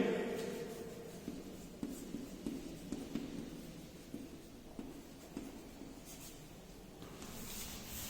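A pen writes on paper, filling in figures for a numerical accounting problem, with soft, continuous scratching and small stroke taps close by in a quiet room.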